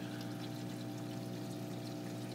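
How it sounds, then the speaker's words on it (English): Water flowing steadily into a homemade coil denitrator reactor for an aquarium, a continuous gentle pouring and trickling with a low pump-like hum, close and quiet with no talk. "the water is officially filled the whole coil, and right now the actual reactor part is filling"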